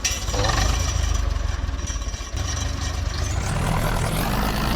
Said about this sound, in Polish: Bierzemy tego traktor